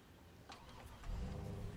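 A truck engine turns over and fires up in Farming Simulator 22, a short cranking sputter that settles into a louder, steady low rumble in the second half, heard close and alone.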